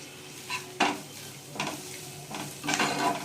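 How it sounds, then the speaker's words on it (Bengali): Spices with cumin powder, chilli powder and salt are stir-fried in a pan for an egg curry with peas: several scraping stirring strokes over a soft, continuous sizzle, close by. "জিরের গুঁড়ো, একটু নুন দেবো আন্দাজ মতন, একটু কষে নেবো"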